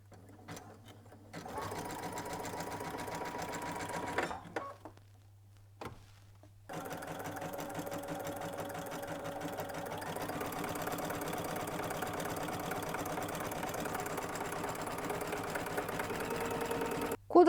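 Sewing machine stitching rope for a basket: a fast mechanical whirring run that starts and stops in short bursts, then sews continuously and loudly, close up, with a faint low hum underneath.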